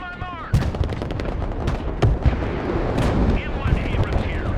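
Direct-fire weapons in the modern warfare RTS Broken Arrow let loose in close, sharp cracks and heavy booms over a rumbling battlefield bed, with a voice talking briefly at the start.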